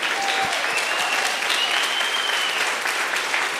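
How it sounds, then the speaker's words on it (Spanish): Church congregation applauding steadily throughout, a dense continuous wash of clapping that stays loud and even, with a few voices calling out faintly beneath it. "Vamos, aplaude al Rey en esta mañana."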